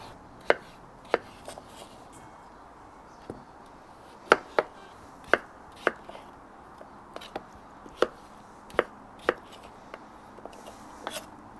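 Potatoes being cut into small pieces with a knife on a board for pea soup with smoked meats, a quiet close series of crisp irregular chops spaced about a second apart.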